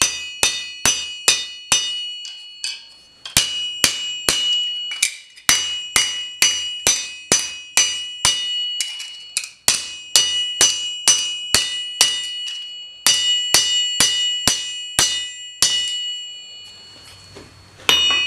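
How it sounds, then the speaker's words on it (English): Steady hammer blows pound texture into a reclaimed metal piece, each strike a bright, ringing clang. The blows come in quick runs with short breaks, and a low rumble follows near the end. "And then just hammer a little bit of texture in there."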